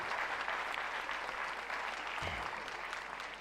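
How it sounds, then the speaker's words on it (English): A big round of applause from the crowd at the International Schools' Athletics Championship, a thick steady wash of many people clapping at even loudness, with a brief low thump partway through. "Can we give a big round of applause to Gateway Group?"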